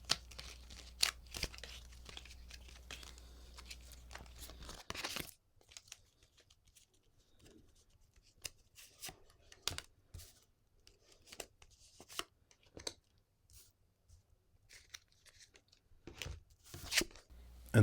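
Papery riffling and soft snapping of cards being shuffled repeatedly, close up, with quiet crinkly handling noises and no voices.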